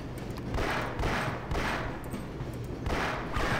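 Gunfire in Half-Life comes in repeated rough bursts roughly every half second to second, loud and close over a constant noisy background.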